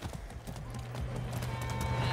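Horse hooves clip-clop in Far Cry 6: a quick, rhythmic run of hoofbeats, fairly close and steady, building in loudness.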